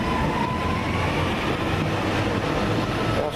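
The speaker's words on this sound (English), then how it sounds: "There goes 397004 departing Motherwell." A Class 397 electric train pulls out of Motherwell station, a steady loud rumble of wheels and traction with a faint high whine, continuous throughout and no voices.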